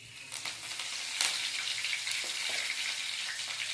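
Curry leaves and cumin seeds sizzle in hot oil, a steady bright crackling hiss with a few sharper pops and spatters, close and continuous without any talk.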